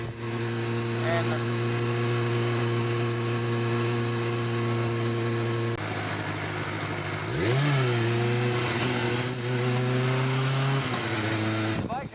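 A 2007 Kawasaki ZZR600 (ZX600J) motorcycle engine is heard close up while riding, holding a steady drone before revving up and rising sharply in pitch through the gears, with wind rushing throughout.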